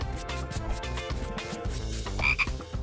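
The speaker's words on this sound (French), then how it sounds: "Mais d'où vient cette drôle de grenouille?" A cartoonish frog croaks over and over in a busy, music-like texture, loud and steady, with a brighter squeaky flourish near the end and no voices.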